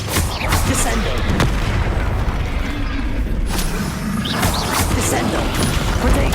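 In the video game Hogwarts Legacy, the Descendo spell slams an enemy down with heavy booming impacts and crashing thuds over a dense, loud battle din, while a character's voice calls out amid the action.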